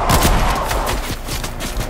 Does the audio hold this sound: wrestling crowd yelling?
no